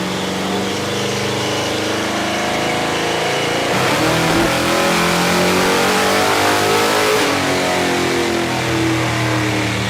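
A Pontiac engine fed by a Dominator carburetor roars loudly on a dyno, holding a steady high drone and then climbing to higher revs partway through.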